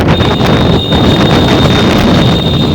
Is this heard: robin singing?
no